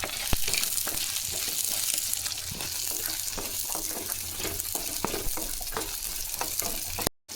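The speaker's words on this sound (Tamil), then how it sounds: "கொஞ்சம் பூண்டு, இதெல்லாம் போட்டு வெங்காயம் ஃபுல்லாக வதங்கணுங்க" Onions and garlic sautéing in oil in a pan for a chana dal chutney, with a continuous close sizzle and occasional stirring scrapes. It cuts off sharply at the end.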